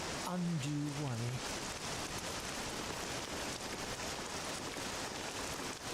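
Steady rain in the video game Dragon Quest 7 Reimagined, a dense hiss of downpour running throughout, with a brief voice-like tone near the start.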